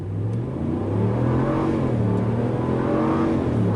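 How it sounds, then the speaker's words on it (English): A 2020 RAM 1500 pickup's V8 roars through a full throttle start in 4x4 auto on damp pavement, a loud, close, rising engine note sustained for a few seconds. "We'll do a full throttle start and see how the grip is"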